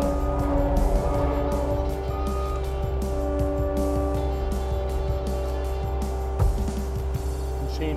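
A Cat SMART dozer makes a blade pass, its diesel engine droning steadily and loudly throughout, with irregular clanks and scraping of the blade and tracks over the ground.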